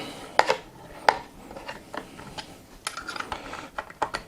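Bolts being tightened during assembly of an AKRacing Obsidian Softouch gaming chair: close, irregular ratcheting clicks and metallic snaps in short bursts, louder near the end.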